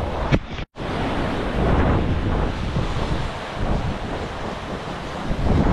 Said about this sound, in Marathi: लाटा जबरदस्त होत आहेत